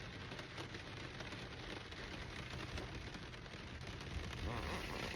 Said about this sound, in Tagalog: Grabe ang ulan ngayon dito sa aming lugar.